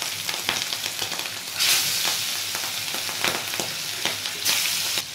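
Shilong fish sizzles and crackles steadily in hot oil over medium heat, with bursts of louder spitting and occasional stirring, close and fairly quiet.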